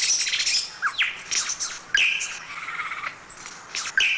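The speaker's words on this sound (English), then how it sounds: "The lyrebird can imitate the sound of other birds, or for that matter, even a chainsaw." A lyrebird calls in bright, varied quick succession: squawks, whistles and chirps, some sharp and metallic, close and fairly loud with no voices.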